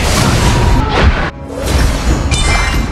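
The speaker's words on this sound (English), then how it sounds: "Your team has destroyed the turret." Turret destroyed in Honor of Kings on the Sun Ce Doomsday Mecha skin: a loud shattering crash with a booming impact, followed by a second burst of breaking debris, with no speech.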